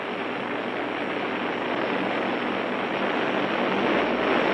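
Steady, loud roar of Lockheed Electra turboprop airliner engines running continuously with a broad whooshing hum and no letup.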